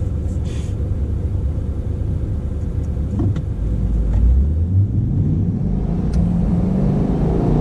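A C8 Corvette drives in manual Z mode on a 50 mph road, a steady interior road rumble with engine drone that climbs in pitch as the car accelerates, loud and continuous.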